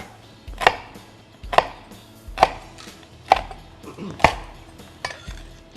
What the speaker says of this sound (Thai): เราก็หั่นให้เขาอย่างนี้หน่อยเห็นไหมครับ ชิ้นเล็กๆหน่อย